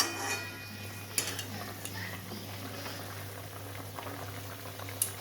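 Lentil dumplings (bori) bubble in a pot of boiling liquid for a shukto, a steady low simmering burble with a few faint utensil clicks, heard close and without talk.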